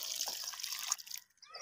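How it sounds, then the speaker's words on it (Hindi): Water trickles slowly from a small container onto mulberry cuttings planted in soil, a close, soft splashing and pattering that pauses briefly near the end before resuming. "अब हम इनको आहिस्ता आहिस्ता से पानी डालेंगे।"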